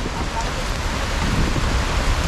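Heavy rainstorm pouring down steadily, a dense continuous hiss of rain with a low rumbling wash beneath, loud and close throughout with no clear gaps.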